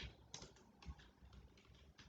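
Quiet, quick keystrokes on a computer keyboard while writing Python code, an irregular run of light clicks and taps close to the microphone with no talking.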